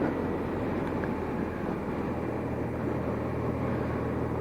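A 1978 BMW R 80/7 motorcycle with freshly rebuilt carburetors cruises at a steady 2,200 RPM, giving a smooth, even low engine drone mixed with road and wind rumble. It sounds quiet and constant throughout, with no one talking.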